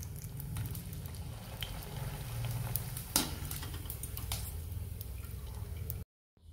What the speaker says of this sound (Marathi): आपण आता उडदाचा पापड तळून घेणार आहोत